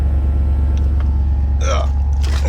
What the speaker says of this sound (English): Okay, it's raising up. I hear the compressor.